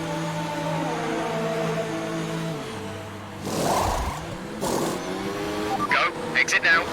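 A Formula 1 car in F1 2019 coming into the pits, its engine a steady droning whine that drops in pitch, then a burst of louder rasping noise and a few sharp blips near the end as it slows.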